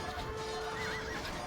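Horses neigh and whinny in the medieval strategy game Age of Empires II, a loud close whinny with clip-clop hoofbeats under a steady battle din.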